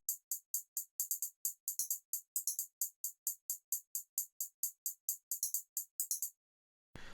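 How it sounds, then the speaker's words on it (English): Rapid FL Studio hi-hat pattern for a beat, doubled in speed with pitched-down hits and quick rolls, a steady run of crisp bright ticks clustering into bursts, playing alone and stopping abruptly near the end. "I double the speed of the hi-hat."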